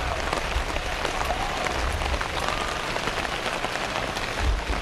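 Steady rain pours over an outdoor paintball field during a PSP NJ Open 2011 match, a dense, even hiss of drops on the surfaces that continues throughout, with a faint crowd murmur beneath.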